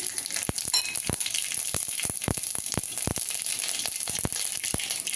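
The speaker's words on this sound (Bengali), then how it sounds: "সর্ষেটা ফুটে যাবে" Mustard seeds splutter and pop in hot oil in a wok while tomato coriander chutney is being started, giving dense sharp crackles over a constant sizzle, close and uninterrupted, with no voices.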